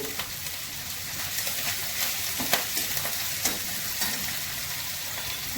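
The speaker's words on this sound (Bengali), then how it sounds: "গ্রেট করা আদা দিচ্ছি" Grated ginger sizzles and fries in a hot pan with prawns while an ash gourd curry is being cooked, giving a steady crackling hiss with occasional sharper pops as it is stirred.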